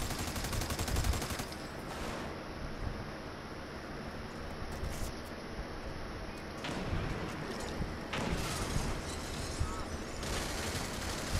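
Gunfire in the video game America's Army: Proving Grounds rattles in dense, continuous bursts throughout. Players talk over the shooting.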